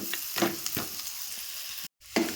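Aloo samosa potato filling fries in a pan, giving a steady sizzle broken by repeated scraping strokes of a spoon. There is a brief silent gap before one last stir.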